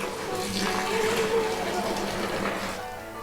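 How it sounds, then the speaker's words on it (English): Hot water pours from a can into a vessel for brewing a homemade Christmas stout, a steady, close rushing and splashing stream that runs the whole time and eases off slightly near the end. "And in we go with the hot water"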